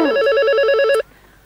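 A telephone rings loudly and close in a home, one warbling electronic trill lasting about a second before it cuts off to near silence.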